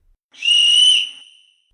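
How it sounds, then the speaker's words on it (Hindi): A single loud whistle blast, a clear shrill tone held for about a second and then fading, close by against silence. "मैंने सीटी बजा दी।"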